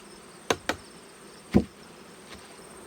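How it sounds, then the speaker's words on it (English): Honeybees being scooped into a measuring cup for a varroa mite test give a faint background hum, broken by a few sharp knocks as the cup scrapes and taps. "Just going to scoop up the bees into my little measuring cup"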